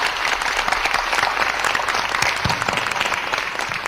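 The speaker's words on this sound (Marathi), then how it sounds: "मोठ्या सरांसाठी जोरदार टाळ्या" Enthusiastic applause from a crowd, dense and steady clapping throughout without a break.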